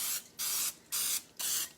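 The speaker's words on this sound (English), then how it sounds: "I'm going to spray it a little bit with cooking spray" Cooking spray misted onto bread pans in three short hissing bursts, close and fairly loud, with brief silent gaps between.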